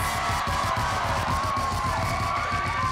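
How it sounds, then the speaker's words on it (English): Audience at a student poetry festival cheering and whooping for the winners, a dense steady roar of crowd voices held at constant loudness throughout. "Clap it up for all the poets."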